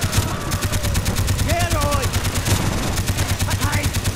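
Rapid, loud automatic gunfire from the Call of Duty: Black Ops game rattles on without a break, the shots packed into a steady stream with brief tonal game effects and music drifting underneath.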